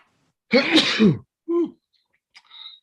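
A single loud sneeze nearby during a county planning board meeting, followed by a short sniff and a brief vocal sound in a quiet room.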